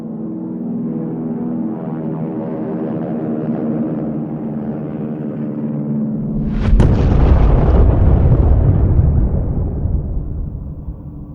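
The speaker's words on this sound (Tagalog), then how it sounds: "Ang American B-29 bomber na Enola Gay ay naghulog ng kauna-unahang atomic bomb sa kasaysayan ng digmaan." Little Boy, the first atomic bomb, dropped by the B-29 bomber Enola Gay: a low droning aircraft engine gives way to a sudden loud blast and a heavy rumble that lingers and slowly fades.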